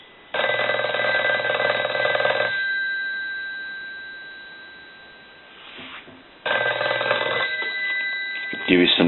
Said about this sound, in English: But I'll go ahead and ring the phone now.